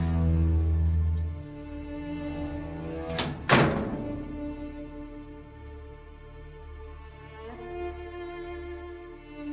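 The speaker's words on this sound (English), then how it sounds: "The door of massive iron had been also similarly protected. Its immense weight caused an unusual sharp grating sound as it moved upon its" A massive iron crypt door swings on its hinges with a loud thunk and a brief grinding scrape near the middle, surrounded by a sustained low tonal drone and no speech.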